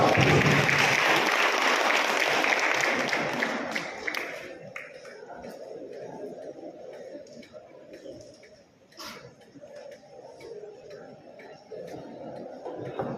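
Audience applause at a college felicitation ceremony, a burst of clapping that fades out over the first few seconds, leaving quiet room ambience with faint bird coos and distant murmur.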